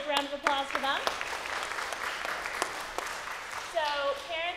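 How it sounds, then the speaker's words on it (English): An audience of parents and kids applauds at the close of a week-long children's program, a clatter of clapping hands mixed with lively chatter and raised voices throughout. "Big round of applause for them."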